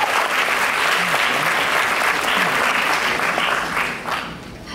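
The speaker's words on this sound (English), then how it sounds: "let's give her a round of applause." Sustained audience applause in a university hall for a student, dense steady clapping from a large crowd that stays loud throughout and thins slightly near the end.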